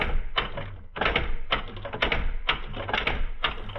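An automated typewriter with a type ball strikes in quick bursts of sharp clacks and thunks, several impacts per second in an uneven rhythm, loud and close with no voices.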